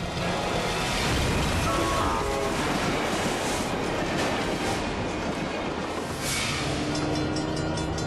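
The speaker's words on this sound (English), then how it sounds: "The chugging giant plows full force into the car" A train roars along loudly at a level crossing with a rushing, rumbling mechanical noise and rattling wagons, steady and close throughout, with no clear impact standing out.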